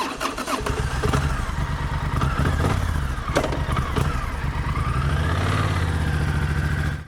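A Triumph Thunderbird motorcycle engine runs steadily and loudly throughout, a dense continuous rumble with slight rises and falls in pitch, close to the microphone with no talking.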